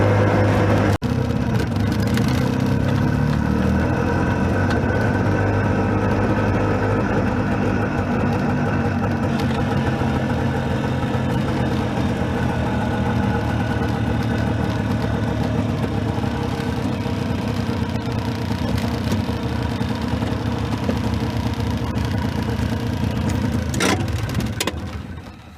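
The small engine of a Messerschmitt KR200 Cabriolet microcar drones loudly and continuously throughout a drive, its buzzing tone rising and falling slightly with speed, close and steady.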